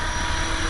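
A small radio-controlled model helicopter hovers close by, its tail bobbing slightly, giving a steady, loud whirring rotor and motor drone throughout with no talking.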